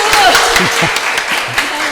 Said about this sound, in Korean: 네, 과감한 박수.